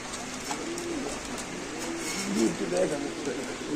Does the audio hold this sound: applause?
no